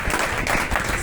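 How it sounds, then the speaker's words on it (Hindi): A church congregation claps in thanks during worship, a brief burst of close, dense applause that stays even throughout and carries no speech. "तो ताली बजा के खुदा का धन्यवाद करें"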